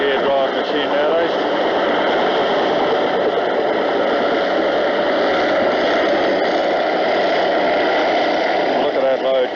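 A gear-drive earthmoving machine works a railway deviation between Ohakune and Horopito in 1985, pushing old foliage into a dump. Its engine drones loud, steady and continuous throughout, with a roughly constant pitch.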